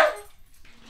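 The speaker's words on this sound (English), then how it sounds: "Whoops, and a loud dog." A single loud, close bark from a dog bursts out at the start, then trails off into quiet room noise with a faint second yip near the end.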